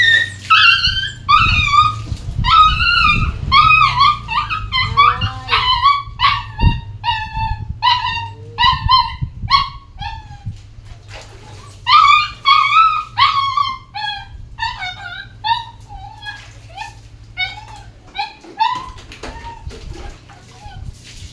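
A dog named Butchi yips, whimpers and howls in rapid, high-pitched bursts during a bath at home, with a low mechanical hum underneath and short pauses between volleys.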